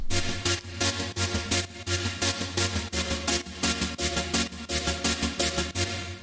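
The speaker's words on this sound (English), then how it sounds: "So I started off the track with this sample here. I believe it's from Splice. It was like a future bass sample pack" Future bass loop from a Splice sample pack: a steady, loud, full-band pattern of rhythmic chopped chord stabs over a sustained low bass, pulsing several times per second without any voice.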